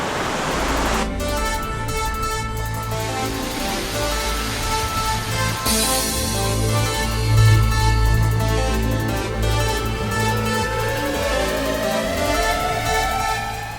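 Secret waterfall on Fridays Creek near a weir at Coffs Harbour, New South Wales, pouring in a steady, loud broadband rush that fills the whole stretch with little change.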